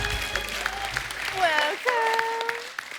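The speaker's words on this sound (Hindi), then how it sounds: "आइए, जोरदार तालियां साई के लिए" A TV comedy show studio audience applauds as actress Saiee Manjrekar is welcomed, clapping running under a voice and a few sustained tones.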